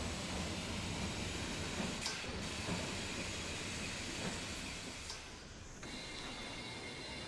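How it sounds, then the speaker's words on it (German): Train pulling into a station in the rail-building game Transport Fever 2, a continuous rumbling rail noise with faint clicking and brief squeal-like accents, easing slightly as it slows. "Erster Zug im Bahnhof."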